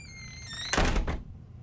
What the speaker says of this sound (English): I sort of pre-selected this door wood squeak sound, and it works pretty well